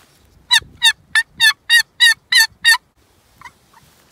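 A turkey call device imitates a gobble: eight rapid, evenly spaced warbling bursts in a quick loud sequence, then a couple of faint trailing notes against near silence.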